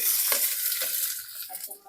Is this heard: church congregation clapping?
no